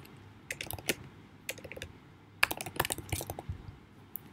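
Typing on a computer keyboard comes in short bursts of crisp key clicks, some single taps and a denser run of quick strokes, close by and alone with no talking.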